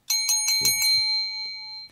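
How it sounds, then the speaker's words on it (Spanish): A bright metallic bell rings several quick times, then its clear tone lingers and slowly fades, with a brief low thump in the middle. "Traje la campana extraña."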